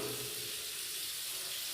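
A washroom tap runs with good water pressure, giving a steady, faint hiss of flowing water that continues unbroken throughout.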